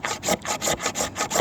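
Long knife carving strokes shaving and smoothing a longer fatwood stick, rhythmic close scraping passes repeating about every quarter second, with no talking.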